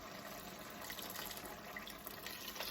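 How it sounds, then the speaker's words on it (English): Water pours in a steady, rushing stream into a cooking pot of simmering lentils for a few seconds, a continuous splashing hiss at low volume. "I'm going to add some water."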